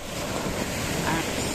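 Mediterranean Sea waves washing onto sandy Rikkos Beach in Kato Paphos, Cyprus: a steady, close rush of surf mixed with heavy wind buffeting, with no pause throughout.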